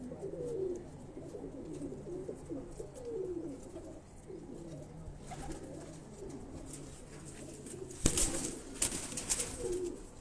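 Pigeons coo softly on a rooftop loft, repeated low burbling calls scattered through the stretch against faint background hiss, with a brief burst of rustling or wing flutter near the end.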